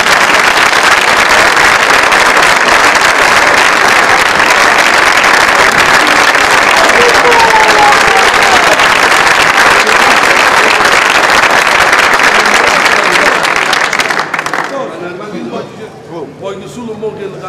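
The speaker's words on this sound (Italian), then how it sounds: "Applausi!" A crowd at a street festival in Barra in 2008 breaks into sustained loud applause, dense and continuous for about fourteen seconds before cutting off abruptly into quieter background noise.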